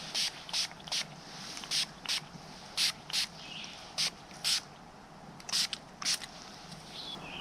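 Short bursts of gnat repellent aerosol spray hiss about a dozen times in an uneven rhythm, each a quick puff, against a quiet outdoor background with no talking.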